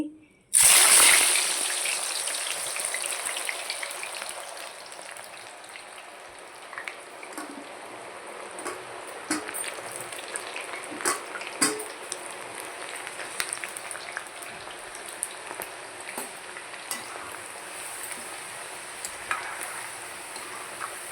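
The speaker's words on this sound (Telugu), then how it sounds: "ఆయిల్ అయితే మంచి కాగిపోయింది మనకి ఫ్రై లాగా అయిపోతుంది" Potato chips deep-frying in hot oil, a loud burst of bubbling as the slices go in, then a steady hissing sizzle with small crackles and pops for the rest of the time, no talking.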